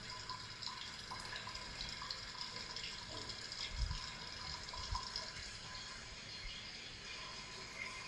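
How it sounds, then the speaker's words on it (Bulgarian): Hot heating water leaks from pipes and floods an apartment block basement in Sofia, a faint steady hiss and trickle of running water with a few soft splashes and thumps in an echoing space. "Това е горещата вода, отоплителна, за която хората плащат, която изтича в мазетата"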